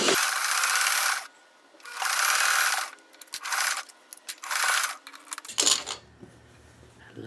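A sewing machine stitches fabric scraps and shreds in several short bursts of whirring, separated by brief pauses, loud and close, ending with quieter handling noise.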